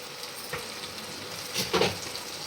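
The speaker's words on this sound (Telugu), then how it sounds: "చాప్డ్ ఆనియన్స్ వేసుకొని బాగా మిక్స్ చేసుకోవాలి" Green chillies and chopped onions fry in a pan with a steady, soft sizzle, broken by a few brief stirring scrapes and clatters near the end.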